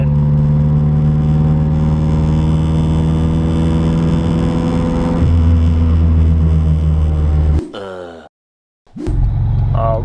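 A car engine running rough at idle with a low, uneven droning rumble and a shift in pitch midway, briefly cutting to near silence before the engine noise returns.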